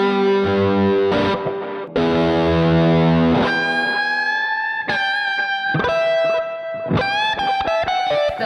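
A slowed-down recording of a guitar piece plays, distorted electric guitar with sustained chords, then bending single-note lead lines and quick runs, loud and up close with no talking.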